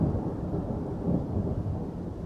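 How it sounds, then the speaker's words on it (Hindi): A thunderstorm at night over a village: a low, continuous rumble of thunder with rain noise, steady and dense throughout without any voices. "उस रात फिर तेज तूफान आया।"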